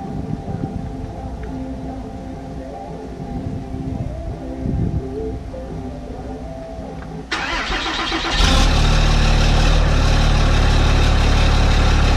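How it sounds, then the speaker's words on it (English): A modern truck engine cold-starts after a rumbling stretch, with a sharp crank catching into a loud, roaring fast idle that holds steady, close up with no talk. "how about a little cold start on Caitlin for you?"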